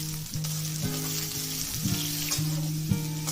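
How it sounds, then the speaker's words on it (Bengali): Pumpkin pieces fry in mustard oil in a pan, giving a steady close sizzle punctuated by occasional clinks and scrapes of stirring. "তারপর মিষ্টি কুমড়াগুলোকে দিয়ে একটু ভাজবো 1 থেকে 2 মিনিটের মতো"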